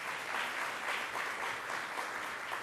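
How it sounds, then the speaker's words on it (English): Steady applause from an audience at a New York state government event, a faint, continuous wash of clapping heard from a distance with no talk over it. "Let's give him another round of applause."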